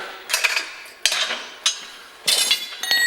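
A metal U-bolt is worked loose from a K2 Storm snow plow winch mount, giving a few sharp metallic clinks and knocks spread over a few seconds, close by with no voices.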